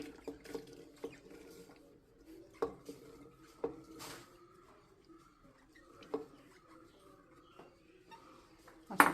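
Washed ash gourd pieces are dropped into a clay pot, making a series of sparse, close clattering knocks and soft thuds with quiet gaps between them, and a sharper clink at the end.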